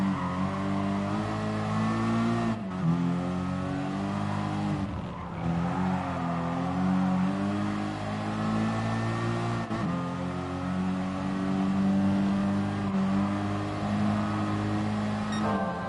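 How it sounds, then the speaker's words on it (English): Car engine droning and revving steadily during a Gran Turismo Sport race, a continuous tonal whine rising and falling through gear changes with brief dips, heard alone without talk. "I still have one more race with this boring, slow car"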